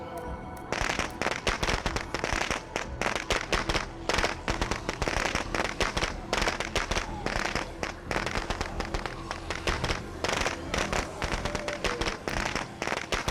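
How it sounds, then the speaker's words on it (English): Firecrackers going off in State of Decay 2, a loud, unbroken barrage of rapid crackling pops and bangs that keeps up for over ten seconds with no voice over it. "I'd throw another firecracker there, just keep rallying them up."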